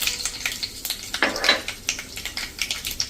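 Dried red chillies, peppercorns, star anise and cinnamon pieces sizzling in hot oil for a satvik undhiyu, with a steady crackling fry and a series of light clicks and stirs close by.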